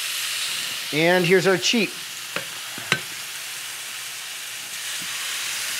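Steaks sear in non-stick skillets after being flipped, a steady close sizzle running throughout while someone speaks briefly near the start, with a couple of light utensil taps.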